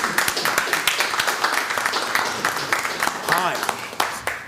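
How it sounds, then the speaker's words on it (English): Applause at a city council meeting, a room of people clapping in a steady patter of sharp hand claps, fairly close, with voices talking over it throughout. "I'm gonna give them a applause, because I appreciate that"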